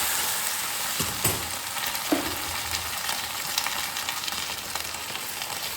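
Ginger fries in a hot pan with a steady close sizzle, a few sharp spits and stirring knocks as hot water is added, with no voices.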